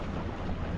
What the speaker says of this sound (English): we do get a gust of wind